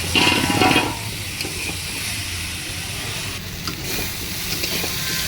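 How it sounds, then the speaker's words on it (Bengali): Turmeric and spices for a rohu fish curry fry in a pan with a steady close sizzle and hiss, briefly louder at the start and then settling into an even frying sound. "আরও এক মিনিটের মতন আমি ভেজে নিয়েছি"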